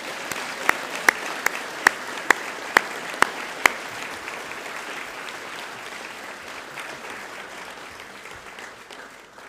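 Audience applause fills a school hall at a high school junior prize giving, opening with a handful of sharp claps before settling into steady, even clapping from a large crowd that holds throughout.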